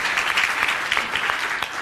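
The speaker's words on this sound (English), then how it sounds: "Big round of applause, you guys." Brief, lively applause from an audience after a talk at a business conference, a dense clatter of many hands clapping, fairly loud and steady with no speech over it.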